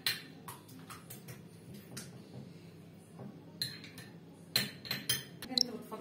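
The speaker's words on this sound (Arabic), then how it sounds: "رشة كركم، اضربهم مع بعض اهو." A whisk or utensil clinks against a bowl while turmeric and spices are beaten together for a chicken liver marinade. Light metallic taps come in scattered bursts and grow into a quicker, louder clatter near the end.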